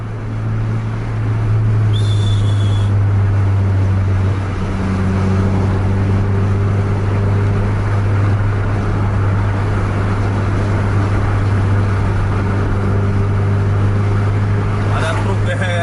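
Racing intercity buses rev hard on an Indonesian road, a loud, steady engine drone that holds throughout, with a brief horn-like tone near the start and voices over the top.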